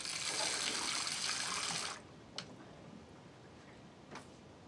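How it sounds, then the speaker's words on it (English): Water runs from a tap in a loud steady gush for about two seconds, then cuts off, leaving quiet room tone with a couple of faint clicks. "You can turn on that tap."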